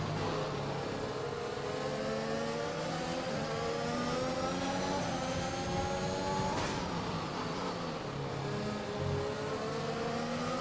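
Race car engines in the F1 2021 video game at the Russian Grand Prix drone steadily as several cars run close together, their pitch rising and falling through gear changes, loud and continuous with no talk.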